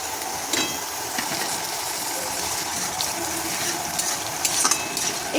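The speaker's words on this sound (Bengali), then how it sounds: "এরপর পেঁয়াজের মধ্যে টমেটো কুচি দিয়ে দেবো।" Chopped tomato and onion sizzle in a pan, a continuous dense hiss with occasional stirring scrapes and a louder knock at the end.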